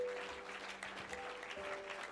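A church congregation at a seminar in Lyon applauds and cheers, with steady, dense clapping and some voices heard throughout the short moment.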